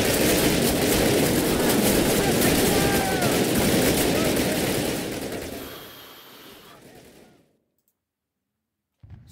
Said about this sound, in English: So a machine gun that sprays things out, bullets everywhere